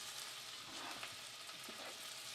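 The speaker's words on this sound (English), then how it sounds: "We got our tomato sauce and our hamburger all cooking away." Tomato sauce and hamburger meat cooking in a pan for ramen spaghetti, a soft and fairly quiet sizzle that bubbles evenly throughout.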